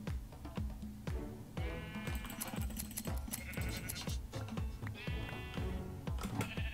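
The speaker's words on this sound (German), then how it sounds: "Dann hier zu den Schafen." Sheep in the Minecraft video game bleat repeatedly in quick, overlapping cries, loud and close, over a busy background of clicking game sounds.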